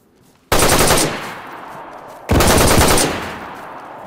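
Two loud bursts of automatic gunfire in the video game DayZ, each a sharp rattling volley that fades into a short decay. The clip opens on near silence.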